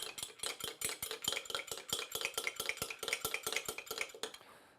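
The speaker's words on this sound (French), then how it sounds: "On cherche vraiment à mélanger le jus de citron avec l'huile d'olive." A spoon clinks rapidly and steadily against a bowl while lemon juice and olive oil are whisked together for a tabbouleh dressing, the close, bright taps running continuously for several seconds before stopping.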